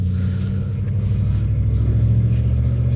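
A car's automatic transmission, treated with a Rislone slip additive, shifts from drive into first with a steady, close engine rumble and a slight change in engine pitch, no speech over it.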